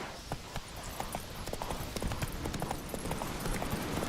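Roach, the horse in The Witcher 3, clip-clops along at a brisk, even pace, close and clear hoof strikes with no talking.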